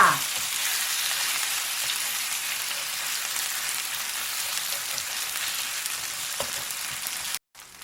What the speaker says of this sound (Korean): 팬에 기름을 넉넉하게 두르고 달구어지면 한 국자씩 떠서 얇게 펴서 부치면 됩니다.